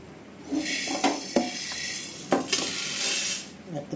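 Sharp pops and crackles from black peppercorns roasting in a dry pan, with a few scraping stirs and sizzle in between.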